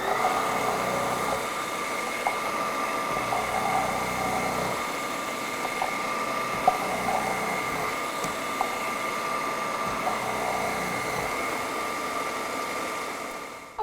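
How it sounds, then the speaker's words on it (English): A Vitamix food processor shredding food through its small shred disc, giving a steady, loud motor whir with a constant grinding hum that holds unbroken until it cuts off at the end. "Now we're going to switch gears and do shredding."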